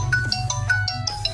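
A short melodic mobile phone ringtone plays loudly through a repaired phone speaker, with bright, clear tonal notes following one another in a quick tune.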